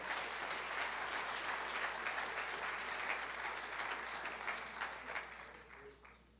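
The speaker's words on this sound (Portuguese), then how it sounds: "Vamos aplaudir mais uma vez o nosso Deus." Applause from a church congregation, a sustained wash of many hands clapping at moderate distance that gradually thins and fades toward the end.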